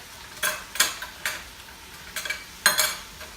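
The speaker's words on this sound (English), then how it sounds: "Gonna give it a stir." A spoon stirs chile with tomato sauces in a pot, making five or six distinct scraping knocks against the pot over a faint background sizzle.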